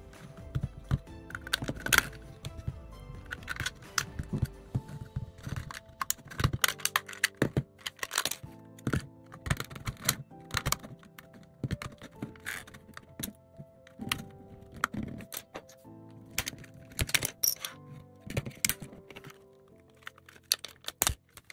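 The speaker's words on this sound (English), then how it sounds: "gently work your way around the edges with your prying tools" Plastic casing of a DJI FPV Remote Controller 3 being worked open with prying tools, a long run of small sharp clicks, snaps and taps at irregular intervals, close and fairly quiet, with no talking.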